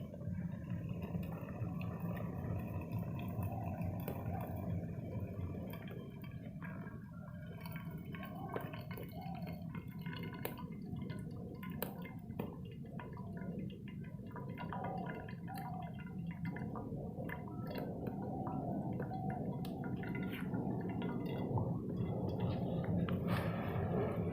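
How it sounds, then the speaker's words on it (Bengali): Water from boiled pumpkin for pumpkin kheer poured off from a pot, a steady gurgling, splashing stream that runs close and loud throughout, with no talk. "এখন এই জলটারে কুমড়ো সিদ্ধর পরে ফেলাই দেবো।"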